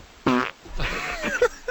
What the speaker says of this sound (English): I got a fart. Do you want to hear it?